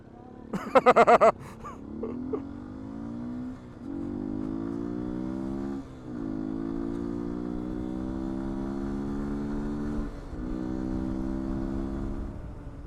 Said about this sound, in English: I'm going out for the second voyage on the 2019 Beta 125 RRS.